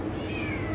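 A single drawn-out cat meow, slightly falling in pitch, sounds over a noisy, dense background.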